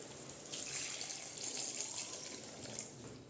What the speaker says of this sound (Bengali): এখন আমি এটার মধ্যে দিয়ে দিচ্ছি অল্পটুকু জল।